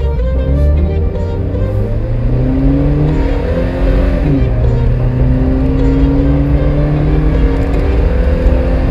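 A 2019 Suzuki Jimny accelerates hard from a standstill in a 0 to 100 test, loud and close from inside the cabin, its pitch climbing, dipping at a gear change, then rising steadily again.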